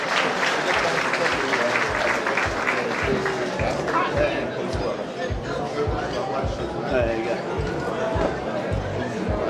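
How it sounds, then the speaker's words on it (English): Audience applause at a 2019 awards gala, steady and full-bodied from a large crowd, with dense clapping and some cheering and chatter mixed in, continuing without a break. "And a nice round of applause, please, for our very special guest, Baroness Susan Williams"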